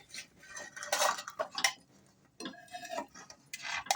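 Prawn kalaki, an egg-and-prawn dish, being lifted and set onto a plate, with several close clinks and scrapes of utensil against dishware in short irregular bursts.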